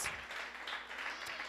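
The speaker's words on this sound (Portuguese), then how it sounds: "Aplauda ao Senhor." A church congregation claps in a steady wash of applause, with a voice calling out over it.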